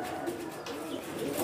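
Homing pigeons in a breeding loft coo softly and steadily, a low murmuring call with faint chirps over a dull room background, no talking.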